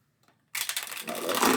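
Brief, close riffle of cards being shuffled, a quick papery flutter that builds after a short silence.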